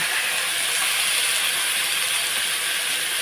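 Drained bottle gourd leaves dropped into hot mustard oil give a loud, steady broadband sizzle that holds evenly throughout, with no voices.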